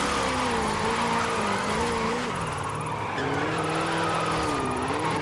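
Engine revving and tires squealing as a car drifts in a racing video game, a continuous wavering whine with sustained skid noise, loud and close.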